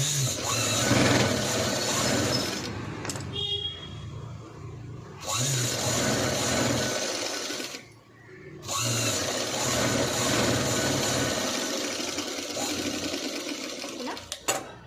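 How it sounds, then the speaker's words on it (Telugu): A sewing machine stitches the neatly folded side of a boat neck blouse. It runs in loud, steady close-up bursts, with brief pauses between runs of stitching. "ఇటు సైడ్ కూడా నీట్గా ఫోల్డ్ చేసి స్టిచ్ అయితే వేసుకోవాలి"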